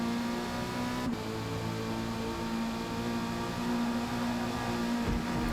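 A Mazda Miata race car engine drones steadily under load, bogging: its tone hesitates and wavers rather than climbing cleanly, with road and wind noise throughout.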